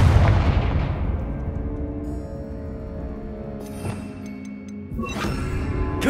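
Confringo fire spell blasts in Hogwarts Legacy, an opening loud explosive boom that rings out and fades, followed by a second sharp burst near the end amid a ringing game backdrop.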